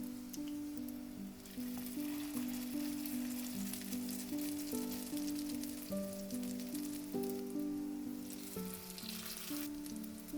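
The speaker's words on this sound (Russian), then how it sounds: "Я разогрела сковородку, уже начинаем жарить оладьи." Cabbage pancakes of batter and shredded cabbage frying in hot oil in a skillet over medium heat, a dense, even sizzle and crackle holding steady throughout with no voices.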